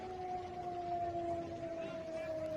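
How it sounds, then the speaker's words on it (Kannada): A civil defense air raid siren in India holds a steady wailing tone, heard at a distance over a low background hum. "ನೋಡಿ, ಸೈರನ್ ಸದ್ದು ನಿಮಗೆ ಕೇಳಿಸ್ತಾ ಇದೆ."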